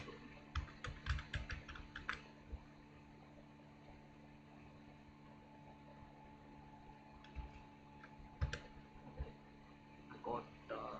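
Code is typed on a computer keyboard in quiet bursts of rapid key clicks, with long pauses between them and a low steady electrical hum underneath.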